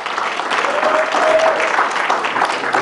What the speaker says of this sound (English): Let's give a nice loud round of applause to Rabbi Paysach Krohn.